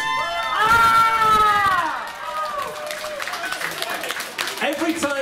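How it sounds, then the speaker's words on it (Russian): Crowd at a music exhibition closing event in St Petersburg's New Holland shouts, screams and claps loudly together, a dense roaring cheer that swells at first and then settles into sustained applause with voices mixed in. "If you scream and shout and clap at the end of each song, very loudly."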